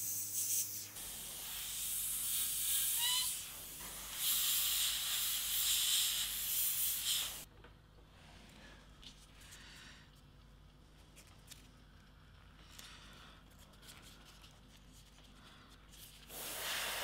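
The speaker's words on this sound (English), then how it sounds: "go over some of the areas that need to be softer with the airbrush freehand" An airbrush sprays paint freehand onto a pickup truck, giving bursts of soft airy hiss: a strong spray for several seconds, then quieter intermittent puffs and hisses nearby.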